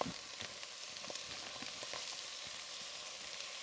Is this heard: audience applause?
no